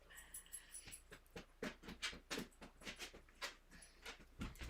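Indoors, a dog makes soft, quiet whimpering and panting sounds in short irregular bursts, close by, with no speech over it.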